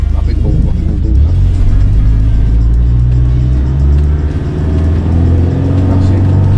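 A Twisted Land Rover Defender off-roading, its engine a steady loud low rumble under light throttle throughout, with voices talking over it.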